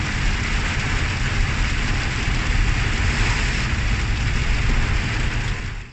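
Hail falling in a steady, dense, loud roar with no breaks, a broad drumming hiss that holds for several seconds before easing off slightly at the end.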